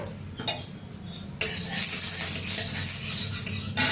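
Whole nigella seeds crackle in hot mustard oil with a steady broadband sizzle, punctuated by a few utensil taps early on and a louder surge of frying after about a second and a half.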